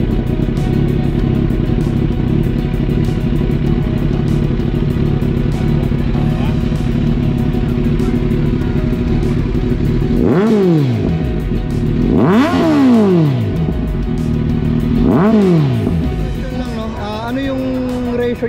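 A 3,000cc motorcycle engine idles with a steady rumble, then revs sharply three times in rising and falling bursts before settling, loud and close.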